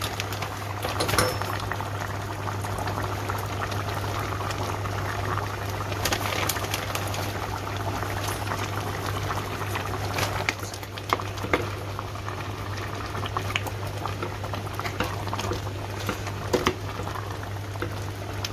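A one-pot vegetable pasta boils steadily in a pot, a continuous bubbling simmer with faint patter and a low hum beneath, no talking.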